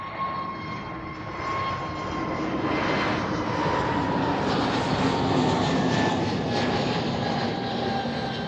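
An EasyJet airliner passes at Amsterdam Schiphol with steady jet engine roar and whining tones, swelling to a peak midway before easing slightly, with no talk over it.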